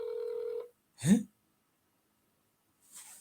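A phone call being placed gives a steady electronic dialing tone for about half a second, followed by a short breathy burst and a faint hiss near the end, with quiet silence in between.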